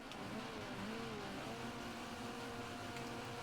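A car engine revs at the start of a drag race in Forza Horizon 4, a quiet, steady mechanical drone with layered whining tones held throughout.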